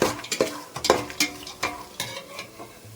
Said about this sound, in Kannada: ನೋಡಿ ಇಲ್ಲಿ ಎಲ್ಲ ಇವಾಗ ಒಗ್ಗರಣೆ ಹಾಕಾಗಿದೆ